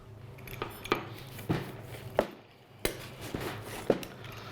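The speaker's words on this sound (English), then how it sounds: "Okay, we're gonna cut this one." A knife or pizza cutter slices through a smoked pizza with a thick homemade-dough crust, giving a series of sharp scraping clicks and thuds against a pan or board, spaced about every half second, close and moderately loud.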